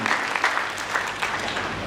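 An audience in a speech hall gives sustained applause for teachers, a dense, moderately distant wash of many clapping hands with small surges, steady throughout and free of talk.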